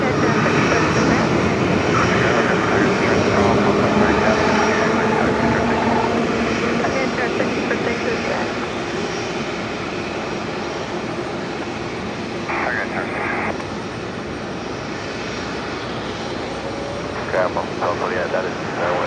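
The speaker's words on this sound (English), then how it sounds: "next arrival just about to touch down is going to be Jetstar 634" A jet airliner touches down at Brisbane Airport, arriving from Avalon near Melbourne: a steady, loud broadband engine roar fills the whole stretch, with a voice talking over it.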